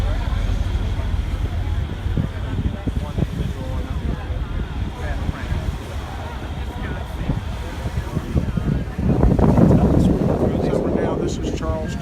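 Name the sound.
wind on a boat in Charleston Harbor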